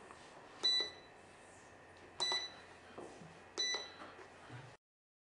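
Three sharp electronic beeps ring out at spaced intervals, each a bright high tone with a brief tail, in an otherwise quiet room.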